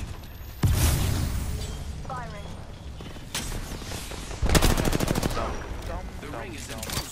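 Bursts of gunfire in Apex Legends, with sharp rapid shots coming in several clusters amid game effects and a few shorter loud reports, quite close and loud.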